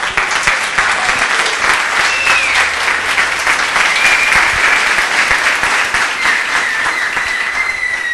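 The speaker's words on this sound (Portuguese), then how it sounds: "Palmas para o nosso Deus." A church congregation applauds in a loud, sustained burst of many hands clapping close by, steady for the whole stretch with faint cheering tones above it.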